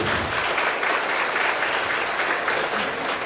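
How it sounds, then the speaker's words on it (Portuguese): A congregation applauds steadily at the opening of the Festa de São Sebastião in Cachoeira de Minas, a dense, even wash of clapping that fills the whole moment without a break. "Uma salva de palmas para todos."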